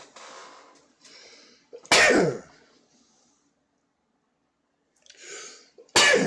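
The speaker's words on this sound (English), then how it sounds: "I'm just going to start off with the sneezes and stuff." Two sharp, loud sneezes a few seconds apart, each preceded by quieter breathy inhales, with near silence between them.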